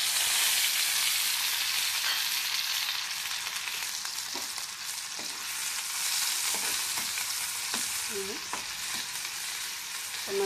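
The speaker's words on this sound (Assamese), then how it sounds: "অকণমান দেৰি ভাজিব লাগিব কেঁচা আদা নহৰু কেঁচা গোন্ধ নজালৈকে অকণমান ভাজিব লাগিব" Raw ginger and garlic fry in hot oil in a pan, giving a loud, continuous sizzle close up, with a few soft scrapes of stirring and no voices.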